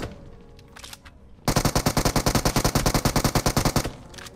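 Automatic weapon fire from the mobile battle royale game PUBG Mobile rattles off in a rapid, loud burst of about twenty evenly spaced shots, preceded by a few faint quieter sounds.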